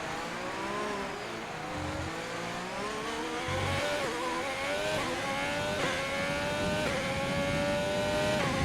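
A Haas Formula 1 car screams around Monza in the F1 2020 racing game, its engine note climbing steadily through the gears with brief dips at shifts, loud and continuous with no talking.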